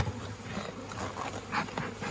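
Bees in an opened beehive box during a hive check make a dense, continuous buzzing that hums close by with no talking.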